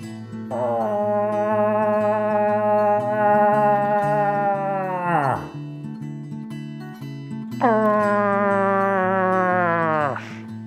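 A voice imitates a cow moose call: two long, nasal, wavering moans with a falling pitch at the end, loud and close, over a steady low hum.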